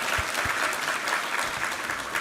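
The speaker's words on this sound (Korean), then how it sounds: "우리 하나님께 감사와 영광의 박수 올려드리겠습니다" A church congregation applauds during a Sunday sermon, a steady dense wash of clapping filling the whole stretch at moderate level, with no voices over it.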